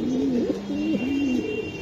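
A racing pigeon coos close by in a loud, rolling, wavering call that runs almost continuously, with no voices over it.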